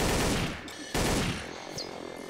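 Rapid gunfire bursts in Garry's Mod Trouble in Terrorist Town, two loud sustained volleys of automatic shots separated by a brief break, dense and close.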